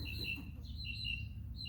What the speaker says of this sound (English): Gosh, those birds are so loud.